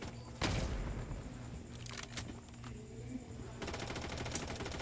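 Automatic weapon fire in the Blood Strike video game: a sharp opening blast, a few scattered shots, then a rapid sustained burst of machine-gun fire near the end, all fairly close and crisp.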